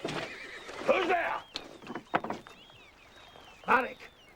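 A horse neighs loudly up close, followed by snorts and a second shorter whinny, with faint hoof sounds and quiet surroundings.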